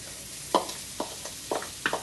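Chopped onions hitting hot oil in a pan, giving a few separate short sizzling bursts spaced about half a second apart over a quiet kitchen background.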